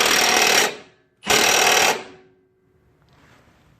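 A Milwaukee power tool snugs a ball joint on a 2004 Ford Escape, firing two loud rattling bursts of under a second each with a short gap between them, then a faint tail.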